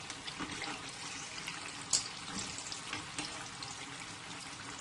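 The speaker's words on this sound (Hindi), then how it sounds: "और इस साइड को तकरीबन हम 3 मिनट के लिए फ्राई करेंगे और उसके बाद पकौड़ों को बाहर निकाल लेंगे" Onion pakoras fry in hot oil with a steady, soft sizzling hiss and occasional small pops and crackles, close and fairly quiet throughout.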